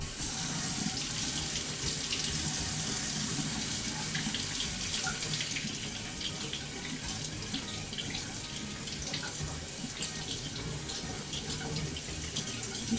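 Tap water runs steadily into a sink as small carrots are rinsed under it, a continuous close splashing rush with no talking.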